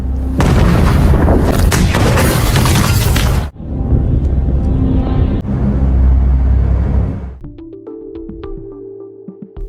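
A ship blows up in a film scene: a dense, loud roaring blast with crackling debris runs for several seconds, drops to a lower rumbling roar, then fades into quieter tonal ambience.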